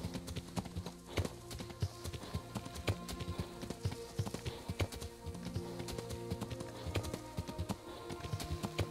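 In the video game Kingdom Come, a horse's hooves clip-clop in a steady walking rhythm, sounding close and clear against a faint background.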